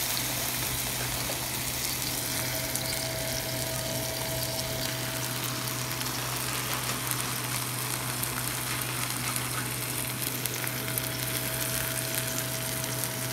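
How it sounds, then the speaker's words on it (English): Beef birria ingredients, cheese and meat, fry in about two tablespoons of olive oil in a saucepan, giving a steady, close sizzle that holds loud and unbroken throughout with a faint hum underneath. "I added about 2 tablespoons of olive oil. And we're going to let that fry."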